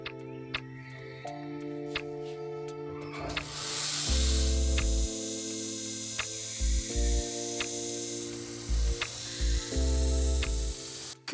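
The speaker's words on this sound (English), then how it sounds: "And now I'll just surface grind it close to my final thickness" A surface grinder works a Damascus steel Bowie knife blade, its motor humming steadily while a bright, hissing grind swells and fades in repeated passes, with clunks of the table reversing between strokes.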